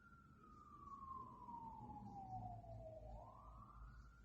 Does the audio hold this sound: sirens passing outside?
yes